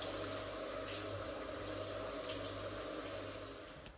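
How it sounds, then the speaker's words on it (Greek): Plenty of tap water runs steadily over salt cod being rinsed in a sink, a continuous close hiss and splash that only eases slightly at the very end. "Μπόλικο, τρεχούμενο νερό."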